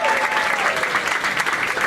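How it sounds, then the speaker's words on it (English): A crowd applauds steadily for elected leaders at a Florida gay rights community event, dense and continuous clapping throughout with a faint voice briefly audible early on. "Big round of applause for those elected leaders."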